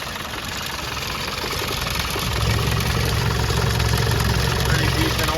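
A 1991 Land Rover Defender 90 with the 200Tdi diesel engine runs steadily at idle, a loud close clattering drone with a light rattle from the airbox that grows slightly fuller partway through.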